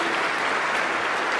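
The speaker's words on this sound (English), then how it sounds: "Give them all a round of applause, our team." An audience at the unveiling of a new Brightline train station at Orlando International Airport applauds the construction team, a dense, steady wash of clapping that stays loud and even throughout.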